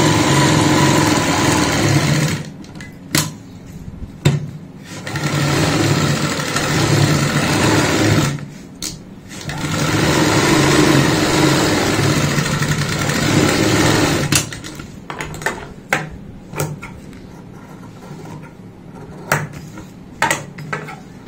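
Sewing machine stitching the pocket onto a zippered box-style cosmetics bag, running in long steady loud bursts with brief pauses, then shorter stop-start runs near the end.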